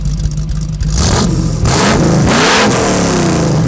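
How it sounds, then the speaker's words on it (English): A 1973 FJ40 Land Cruiser with a worked 363 small-block V8 rises from idle into loud, close revs, the engine roaring in rising and falling surges as the throttle is blipped. "Let's give it a few revs."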